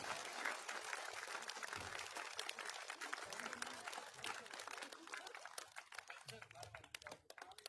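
A gathering's audience claps to honour its elders at a golden jubilee reunion: faint, dense applause that runs throughout, with voices mixed in.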